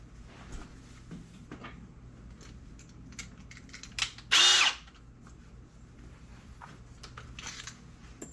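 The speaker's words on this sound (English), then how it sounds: "you can go ahead and drill." A short, loud burst of power drilling, under a second long, drilling holes to wall-mount a weight plate rack, stands out near the middle against quiet background noise and faint handling clatter.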